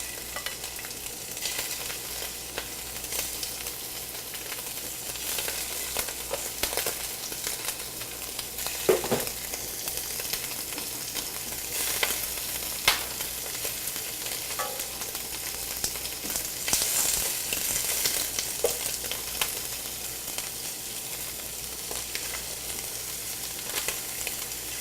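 Shrimp frying in a hot pan, a steady sizzle running throughout at close range with occasional small pops and stirring sounds, no talking.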